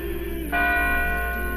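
A church bell rings out in a narrated legend, a bright struck tone with long sustained ringing overtones, loud and close over a low steady hum.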